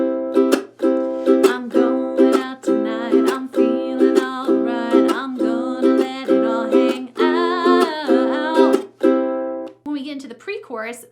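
A ukulele strummed in a steady, repeating rhythmic pattern of bright chords, each stroke distinct, played alone up close for several bars.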